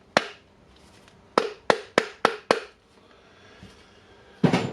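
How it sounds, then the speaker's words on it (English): A rubber hammer taps a part of a Hitachi DH26PB hammer drill during repair, giving a quick series of six or seven short, close thuds, then a pause and a final few knocks. "you can take the rubber hammer and hammer it slightly."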